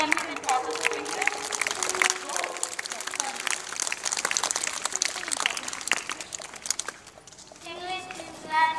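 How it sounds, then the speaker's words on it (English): Schoolchildren in a classroom at Suraj School in Rewari clapping for their classmates, a dense patter of many small hands running for several seconds, with children's voices mixed in. "All of you can clap for them."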